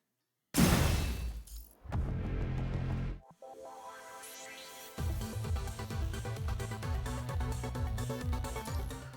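Cocoon shattering in the game Punishing: Gray Raven, a sudden loud crash with a burst of breaking debris, then a sweeping whoosh and a second crash, followed by rhythmic rattling effects under music.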